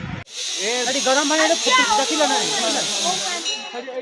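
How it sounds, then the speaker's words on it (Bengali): Hot spring water gushes out beside a temple at Daringbadi with a steady, close, broad hiss, while voices talk over it. "গরম জলটা বেরোচ্ছে"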